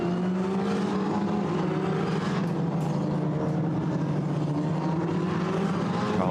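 Formula Renault Eurocup race cars on Hankook tyres sweep through the left-hand turn 1 at Paul Ricard, their engines a continuous, dense, droning roar with rising pitch sweeps as the field passes.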